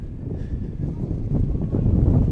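Steady wind roaring across an outdoor ultimate frisbee field during a club championship game, a broad low rumble of gusts buffeting the microphone that swells slightly louder toward the end, with no voices.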